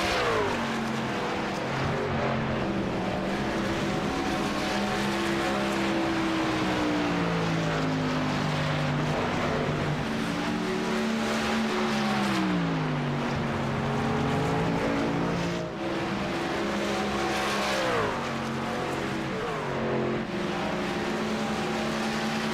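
Race trucks lapping the Charlotte racetrack, a continuous loud engine drone with rising and falling pitch as several vehicles wind up and pass, sustained throughout with no talking.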